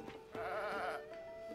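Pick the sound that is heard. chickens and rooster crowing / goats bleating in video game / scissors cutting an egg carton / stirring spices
goats bleating in video game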